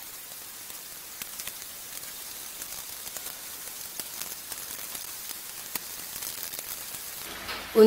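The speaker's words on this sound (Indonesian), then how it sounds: "Terus ini mentega yang nomor 2 saya lelehkan." Butter melting in a pan for sponge cake batter, giving a faint, steady crackle and soft sizzle with scattered tiny pops throughout.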